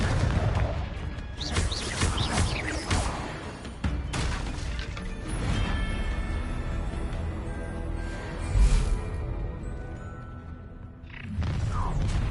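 Blasting-spell explosions from Hogwarts Legacy gameplay, a run of loud booming blasts and crashing impacts layered with game music and effects, several bursts spread across the stretch.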